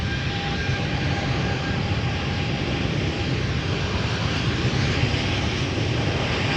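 An Embraer E195-E2 airliner bound for Stavanger rumbles at Amsterdam airport, a loud, steady, low-heavy engine drone with faint tonal whine layered on top, close by and uninterrupted by voices.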